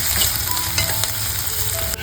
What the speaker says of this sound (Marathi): कढीपत्ता घालून घेतोय.